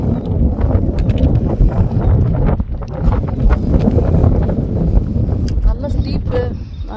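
Strong wind buffets the microphone near the summit of Chokramudi peak in Kerala, a loud, gusty low roar that runs throughout while someone talks over it.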